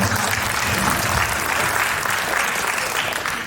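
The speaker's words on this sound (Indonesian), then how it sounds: "Tepuk tangan buat Mas Eros." A crowd at a speech event applauds for Mas Eros, a dense, loud, sustained clapping that fills the whole stretch without a break.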